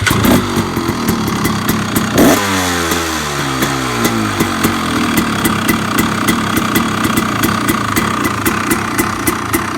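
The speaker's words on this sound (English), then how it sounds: "I'll go ahead and start the bike up for you so you can hear how it sounds." A 2014 XCW 300 dirt bike with an FMF Turbinecore 2 exhaust starts, then settles into a loud, close, steady idle with a rhythmic two-stroke burble.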